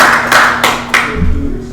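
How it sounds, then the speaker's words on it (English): Audience clapping at a meeting, a few sharp close claps in a short burst with a thump near the end, no talking over it. "Another round of applause, please."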